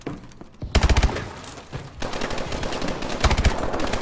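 Turret firing in the video game Call of Duty: Advanced Warfare, loud rapid automatic bursts after a brief quiet start, with a short pause before sustained fire resumes through the end.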